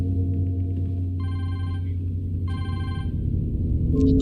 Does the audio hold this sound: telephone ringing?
yes